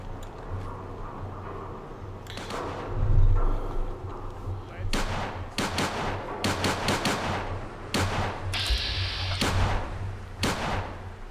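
Gunfire in the video game Fallout 4, heard as bursts of rapid shots and heavy booming blasts over a constant low rumble, loud and sustained, with people talking over it.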